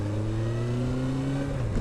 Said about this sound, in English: drowning out the noise of the exhaust